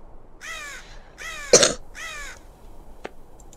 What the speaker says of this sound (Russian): Ворона каркает.